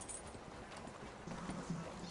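Horse hooves clip-clop in Red Dead Redemption 2, soft and fairly faint steps in a loose rhythm over a steady background, with no talk over them.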